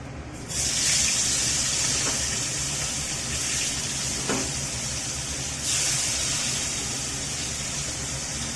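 Catfish pieces, salted, hit hot mustard oil in a pan, setting off a loud, steady sizzling hiss that continues for several seconds with a few small pops and spits.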